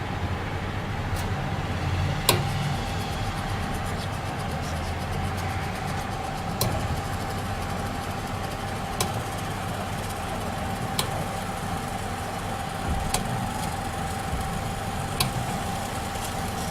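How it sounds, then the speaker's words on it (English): A small electric motor drives a robot wheel at 12 volts with a steady, even whine, broken by faint periodic ticks over a constant low hum. "current is provided in this motor, and see, this is how the wheel is moving"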